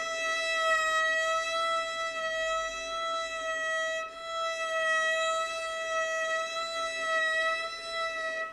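A single bowed violin note held steadily for several seconds, wavering slightly in pitch from a transversal vibrato, thin and a little strained, with no talking.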